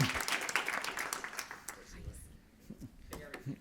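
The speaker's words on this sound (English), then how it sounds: "let's give a big round of applause to these courageous change agents" An audience at a conference session applauds volunteers, with scattered clapping that starts strong and thins out into sporadic claps, heard alongside background voices.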